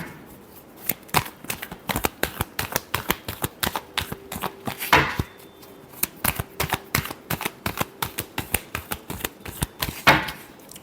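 Tarot cards being shuffled by hand, a rapid series of crisp riffling snaps and slaps in close, uneven bursts, with no voices over them.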